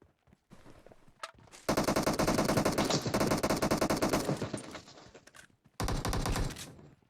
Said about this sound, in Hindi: आगे जाता हूँ तो मेरे पे शॉट्स